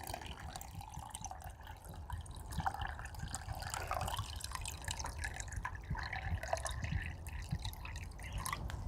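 Turbid water is poured into a homemade DIY water filter, with faint, quiet trickling and dripping running steadily throughout.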